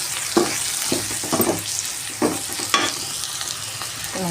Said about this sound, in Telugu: వేసి బాగా కలుపుకోవాలండి.